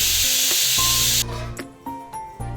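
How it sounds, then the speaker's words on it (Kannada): Hot oil sizzles loudly at first as cumin, mustard seeds and garlic are tempered, then cuts off, followed by a few sharp metallic clinks and scrapes of a utensil against a pan. "ಇವಾಗ ಒಗ್ಗರಣೆ ಹಾಕೋಣ ಸ್ವಲ್ಪ ಬಾಣಲಿಗೆ ಎಣ್ಣೆ"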